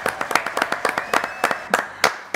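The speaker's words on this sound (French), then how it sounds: "Applaudissements pour Gaspard Delanoë" Studio audience applause for the guest Gaspard Delanoë, a thin patter of distinct, sharp claps from a smallish crowd, close and uneven, with a faint voice in the background.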